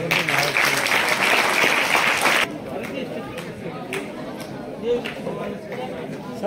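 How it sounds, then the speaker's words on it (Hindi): A crowd of schoolchildren and guests at a gathering in Narnaul claps loudly for about two seconds before dying to sparse scattered claps and light room noise. "आप लोग तालियों से उसमें शामिल हो जाए"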